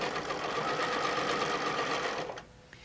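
Domestic sewing machine doing ruler work, a steady close whirring stitch run that stops abruptly near the end, leaving quiet room sound.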